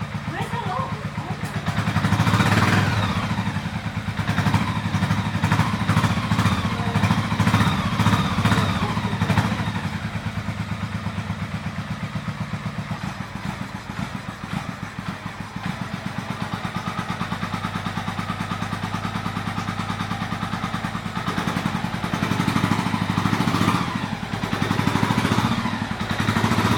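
A 1985 Honda Shadow motorcycle engine runs nearby after a Holley fuel pump is fitted, a loud clattering mid-pitched idle with a few revs rising and falling, and a voice talks over parts of it.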